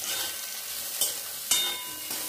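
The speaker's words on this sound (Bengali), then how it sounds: "তো এখন আমি এখানে ভাজছি ভেন্ডি।" Okra frying and sizzling in a pan, a soft steady crackle broken by a few sharper stirring scrapes and clinks, with no one speaking.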